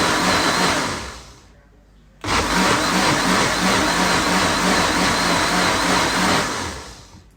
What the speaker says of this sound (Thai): ปั่นส่วนผสมทุกอย่างให้เข้ากันเลยนะจ๊ ะ